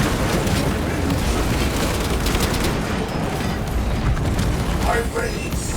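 A frag grenade goes off in the sci-fi shooter Space Marine 2, one loud blast inside dense, continuous battle noise with gunfire and rumbling explosions.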